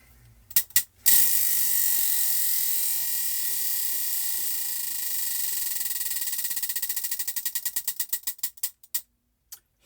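A prize wheel is spun, its pointer clattering against the pegs in a fast ratcheting burr that gradually slows into separate ticks before stopping, preceded by a few sharp handling clicks.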